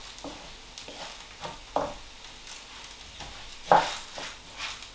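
Arborio rice gets stirred in a pan to coat it in hot juices, with a soft sizzle underneath and repeated scraping strokes of a spoon against the pan at an irregular rhythm.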